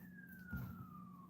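Faint ambulance siren outside, a single thin steadily falling wail heard from a distance, with a soft low thump partway through and a louder bump at the end.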